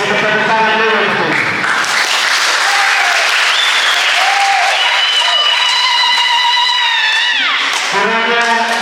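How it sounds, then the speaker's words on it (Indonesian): A congregation applauds during a church anniversary worship service, loud sustained clapping from a large crowd, with sung or held voices and shouts rising above it through most of the stretch. "Kita tepuk tangan dulu betul."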